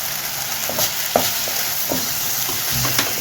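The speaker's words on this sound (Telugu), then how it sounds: "పచ్చివాసన పోయే వరకు కూడా మనం వేపుకోవాలి." Tomato and spices with turmeric and salt fry in a pan for a leftover idli snack, a steady close sizzle broken by several soft scrapes and taps of the stirring spoon.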